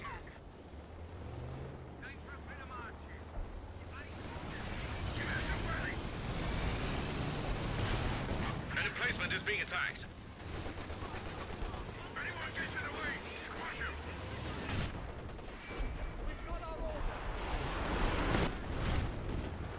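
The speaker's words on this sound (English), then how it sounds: "Flame mortar attack has been ordered." Flame mortar barrage in a Company of Heroes 2 4v4 battle, with repeated heavy thumps and crackling bursts over continuous battlefield gunfire and rumble, while voices speak over the din.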